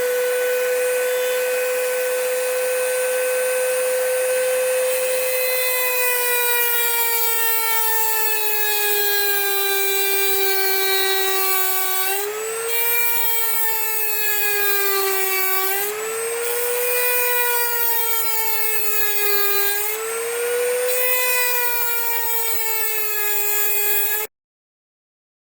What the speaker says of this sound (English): get myself in a nice stable position that I can hold my knife up to that Dremel